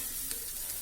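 Cooked rice being stirred into a vangi bath mixture in a frying pan gives off a brief, steady, fairly quiet sizzling hiss with no talking.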